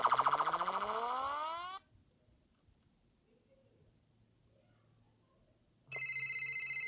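A phone ringing in the video game Five Nights at Spy's, loud electronic trilling rings that stop, leave a near-silent gap, then start again for another ring.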